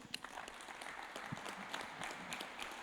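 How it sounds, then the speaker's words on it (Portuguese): A congregation at a Sunday church service gives a steady, dense round of applause, moderately loud and continuous throughout with no talk. "Dá uma salva de palmas para Jesus."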